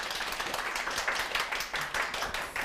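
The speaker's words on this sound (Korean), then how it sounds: "박수 네, 부탁드립니다." Lecture audience claps after a talk at a Korean lecture show, a fairly quiet, steady patter of hands with faint swells, no voices over it.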